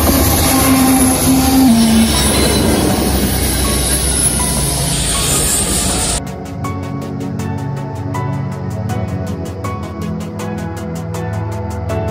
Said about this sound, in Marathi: ट्रेन येईल का आता एकतरी? ट्रेन आली तर मग बेरोल घेऊन टाकतो.